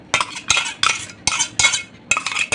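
Spoonfuls of mint chutney scraped out into a bowl, heard as six or seven close, bright clinks and scrapes of a spoon against the dish at a steady rhythm, with no voices.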